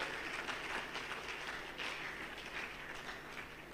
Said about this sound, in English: So such a beautiful art of work deserves another round of applause.